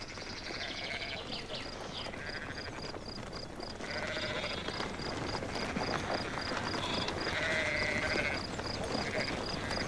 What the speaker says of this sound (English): The ancestral type of sheep, for instance, were tough, aggressive,